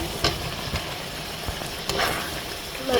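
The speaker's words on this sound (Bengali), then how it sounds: "আগে দিয়ে দিচ্ছে কাঁচা আলুগুলো ভাজা" Oil sizzles steadily with a few sharp pops and crackles as raw potatoes fry in a pan for spicy chicken bhuna, with soft clinks of stirring.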